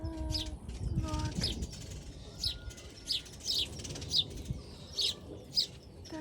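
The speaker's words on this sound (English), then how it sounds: "That's an English sparrow or a house sparrow." House sparrows at a garden deck, an adult with two fledglings, give repeated bright chirps in short bursts, fairly close, with faint rustling and a low hum underneath.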